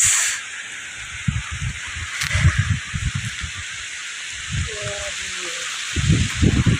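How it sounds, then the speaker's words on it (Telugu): Heavy rain falls near village huts as a steady, broad hiss that persists throughout, while someone talks intermittently over it. "వర్షం పడుతుంది ఫ్రెండ్స్."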